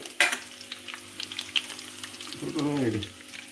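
Puliyogare seasoning fries in a pan with a quiet, steady sizzle and a few clicks of stirring, while a person talks toward the end.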